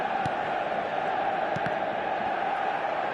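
An eFootball stadium crowd roars after a goal, a steady, dense wash of cheering that holds at an even level throughout, with a few sharp pops on top.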